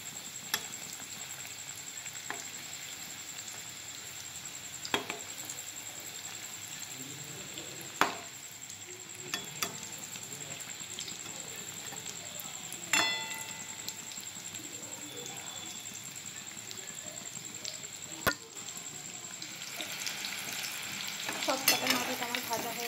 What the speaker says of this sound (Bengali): মিডিয়াম আঁচে এগুলো ভেজে নেব।